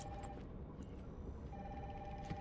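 Inside the Batman: Arkham Asylum video game, a telephone bell rings in two bursts separated by a short gap, moderately loud over a low ambient hum.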